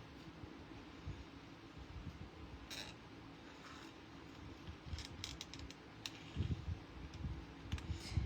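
Small scissors snip paper, fussy-cutting a figure for a fall ATC card, giving faint, scattered crisp clicks and short cutting bursts close by over a soft background hum, with no talk.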